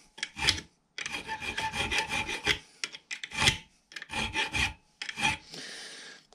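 Hand file rasping across the teeth of a vintage Ransomes Marquis cylinder mower blade, taking rough edges and weld slag off; bursts of close, harsh scraping strokes separated by short pauses, with no talk.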